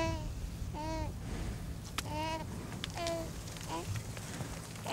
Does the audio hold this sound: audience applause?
no